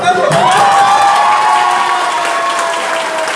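An audience applauding in a city council chamber, a dense sustained clapping with some crowd voices mixed in, loud and fairly close.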